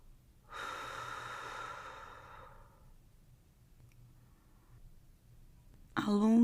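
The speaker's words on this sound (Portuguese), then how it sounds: "Puxe o ar pelo nariz. Solte o ar pela boca." Slow guided breath, drawn in through the nose and then let out through the mouth in a long, soft exhale, close and quiet, followed by a short sharp sound at the end.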